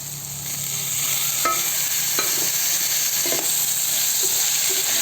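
Tomatoes frying in a pan for chicken gravy, a loud steady sizzle with scattered scrapes and clicks of stirring.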